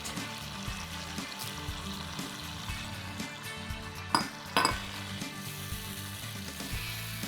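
Spices, chopped ginger and tomatoes fry in a wok with a steady, dense sizzle. A couple of sharp metallic clinks cut through briefly near the middle.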